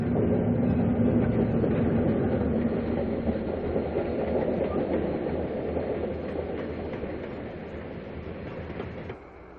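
A Cincinnatian diesel passenger train rumbles loud and close across the former Wabash tracks at Delray Junction near Dearborn, a steady roar of wheels and rail clatter that eases slightly near the end.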